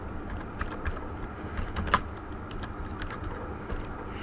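Typing on a computer keyboard while entering text in a Word document, with scattered light keystrokes and one sharper clack midway, fairly close against a noisy room background.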